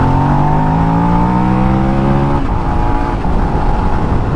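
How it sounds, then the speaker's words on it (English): A Suzuki SV650S motorcycle engine with 27,000 miles drones steadily close up, its revs climbing gradually at the clutch before dropping off abruptly into a rougher idle. "you can just hear the revs rise a little bit there"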